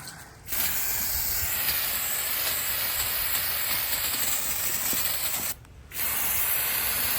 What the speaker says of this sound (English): Got this aircraft paint remover, and I'm just gonna spray it on there